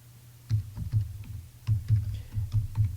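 Typing a search on a computer keyboard: a few light key clicks, then a pause, then another quick run of soft, close taps, with no talk.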